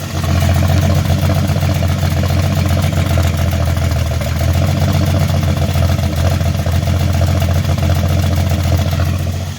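Engine of a 1966 Dodge Dart GT barn find, off the road since 1985, heard at the tailpipe: a loud, steady idle with a deep low rumble and a fast, even exhaust pulse, close up, no voices.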